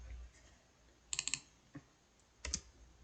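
A computer keyboard clicks faintly during database coursework: a quick cluster of three or four keystrokes, a lone tap, then a final pair of presses, all light and close against quiet room tone.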